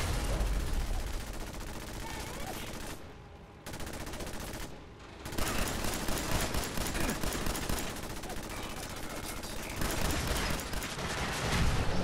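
Gunfire in Fallout 4 combat, with dense bursts of shots and rapid automatic fire filling most of the stretch. A couple of brief pauses break it before the firing resumes loudly.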